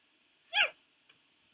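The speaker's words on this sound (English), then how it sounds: "Oh, hiccups." A single sharp hiccup from a person, brief and close, followed by a faint click and quiet.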